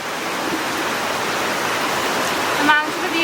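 Heavy rain pours down steadily in a broad, constant wash close by while chicken posto is cooked, with a brief scrape or clatter near the end and no clear voice.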